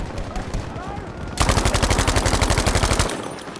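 A Thompson M1928A1 submachine gun firing in Battlefield V, a loud, fast, steady burst of rapid shots lasting under two seconds, preceded by muffled battlefield noise and a voice talking.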